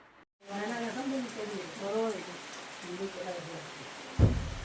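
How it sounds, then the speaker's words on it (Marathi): Steady heavy monsoon rain in Konkan hisses throughout while a person talks over it, ending with a sharp thump near the close. "खूप पाऊस भरलाय बाप रे केवढा बघा पाऊस भरलाय"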